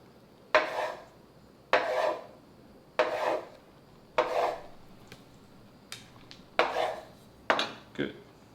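A knife chops through tofu on a cutting board in seven evenly spaced, crisp strikes, each a short close thud with a faint scrape, separated by quiet pauses.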